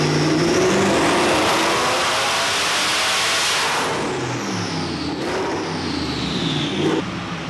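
A twin turbo drift Mustang revs hard under high boost, a loud roaring engine sweep that rises then falls off, followed by a brief lift-off whoosh and a second rev near the end.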